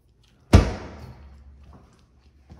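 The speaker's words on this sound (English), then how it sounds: "The drawer down there." A kitchen drawer shuts with one sharp bang that rings out and fades over about a second, followed by a faint knock and a small rattle near the end, with no talking.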